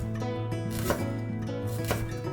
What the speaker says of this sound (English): Start by chopping some onions.